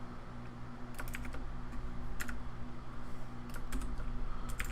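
Typing on a computer keyboard comes in short bursts of quick clicks separated by pauses, close and clear over a low steady hum.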